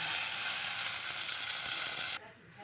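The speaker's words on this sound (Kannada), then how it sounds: "ಸೊ ಈಗ ಇದನ್ನು ಫ್ರೈ ಮಾಡ್ಕೊಳ್ಳೋಣ." Ground vegetable chutney paste frying in a pan gives a steady, loud bright sizzle that runs unbroken, then suddenly drops to a faint crackle near the end.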